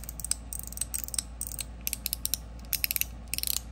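A zirconium mechanical fidget slider, a Liuchu One Pal, slides back and forth, giving close, quiet bursts of small clicks and scraping ticks in an irregular rhythm.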